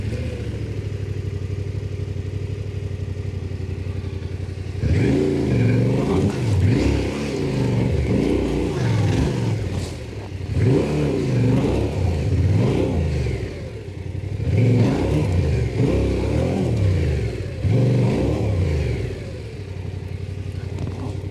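A loaded Yamaha Ténéré 700 adventure motorcycle climbs an offroad hill with its rear tire failing to grip. The engine idles low, then revs loudly in repeated surging bursts that rise and fall for a quarter minute.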